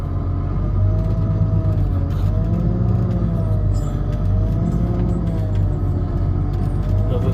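A stuck pickup truck's engine roars and revs steadily in the woods during logging work, a loud continuous low rumble with slight pitch swells, heard alone without talk.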